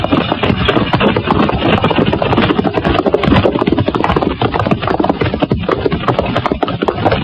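Horses ridden out on a trail, hooves clip-clopping in a steady, dense rhythm that stays loud and close throughout.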